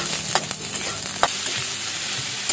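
Spices frying in a small amount of oil in a pan, a steady soft sizzle with occasional faint stirring clicks, close and continuous with no talk.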